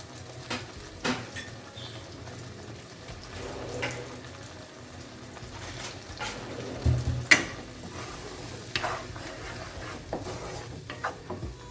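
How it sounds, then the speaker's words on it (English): Black pepper and chili powder sautéing in a pan with coconut, onion, ginger and garlic for a beetroot curry: a soft steady sizzle under intermittent spoon scrapes and clinks, close by, with no talking. "and the pepper with some chili powder. Just saute this for a couple of minutes."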